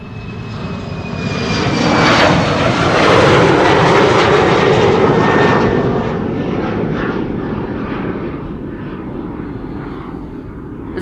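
Delta Airlines jet departing the Polderbaan runway at Amsterdam Schiphol, a loud, broad roar that swells as it passes close by and then slowly fades into the distance.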